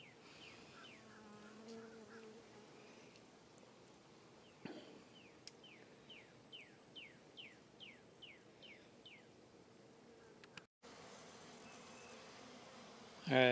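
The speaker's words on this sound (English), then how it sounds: "my yard bees have found this and started cleaning it up" Bees buzz steadily at close range, joined by a string of quick chirping bird calls in the middle and a brief knock near the end.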